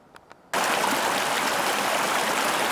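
Mountain stream near Gem Lake in the Sierra, a loud, steady rush of flowing water that starts abruptly after a couple of faint taps and continues close and unbroken.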